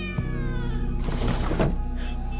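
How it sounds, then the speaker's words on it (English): A cat gives a drawn-out, wavering meow, close and loud, followed by a second call, with a steady low hum underneath and no talking. "Oh, there's a kitty cat."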